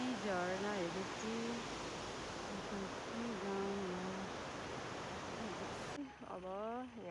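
Steady broadband rush of a waterfall in a Nepali village, continuous and fairly loud throughout, with a voice and tonal calls over it.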